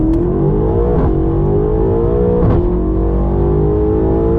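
A 700+ hp BMW M8 Competition accelerates hard on the Nürburgring, its engine droning loud and steady as the pitch climbs through the gears, with brief dips at upshifts and a constant roar of wind and road noise.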